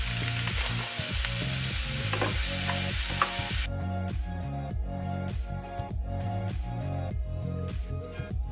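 Riced cauliflower frying with onion in a pan, a soft sizzle under steady music with a regular beat, the hiss dropping back partway through.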